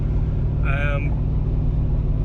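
A Ford F150 5.0 pickup with an MBRP exhaust cruises on a highway, a loud steady low engine and exhaust drone with road noise, broken by a brief tonal chirp midway.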